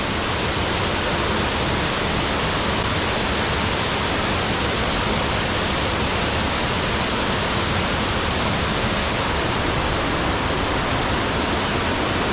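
A large waterfall, the Blue Waterfall in Cagayan Valley's river trekking country, roars in a steady, dense rush of falling water that stays constant and unbroken throughout.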